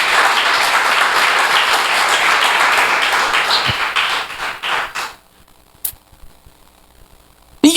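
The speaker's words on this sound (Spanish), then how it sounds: "Dele ese aplauso al Señor, mi hermanita." A church congregation applauds loudly and steadily for about five seconds, the clapping then fading out into near silence broken by a few scattered taps and small knocks.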